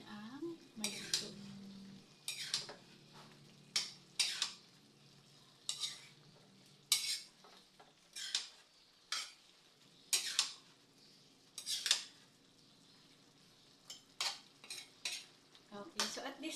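Pork is stirred in a cooking pot with a low simmering hiss underneath, while a utensil scrapes and clanks against the pot in regular bursts about every second or two, close and fairly crisp.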